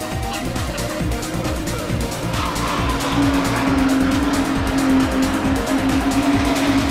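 Porsche 924 race cars racing at Snetterton circuit, several engines roaring close together with rising and falling revs and occasional tire squeal, loud and continuous, under a commentator's voice.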